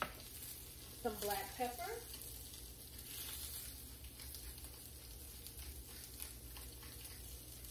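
Asparagus sizzles and fries in butter in a hot pan, a steady low crackle under a brief spoken remark, continuing faint and even throughout.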